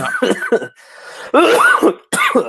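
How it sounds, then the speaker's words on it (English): A person coughs several times in rough, throaty bursts, with a short pause between the fits. "this damn cough won't go away"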